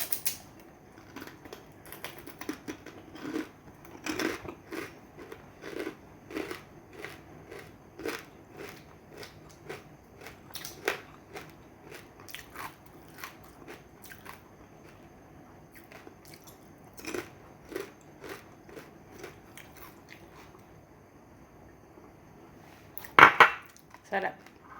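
Crunchy chicharon is bitten and chewed up close in a long run of sharp, irregular crunches, quiet at first and building to a louder burst of crunching near the end, with no talking.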